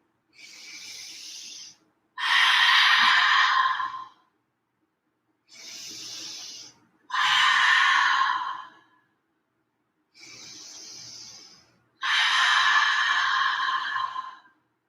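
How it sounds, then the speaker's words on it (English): Three rounds of deep breathing close to the mic at the end of a vinyasa yoga practice, each a softer inhale followed at once by a longer, louder open-mouth exhale, with silence between rounds. "let's seal this practice with 3 rounds of breath, letting them be open mouth exhales each time"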